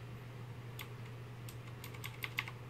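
Cherry MX Green clicky mechanical switches on a CM Storm Quickfire TK keyboard, pressed in a few quick, sharp clicks over a faint steady hum, growing denser toward the end.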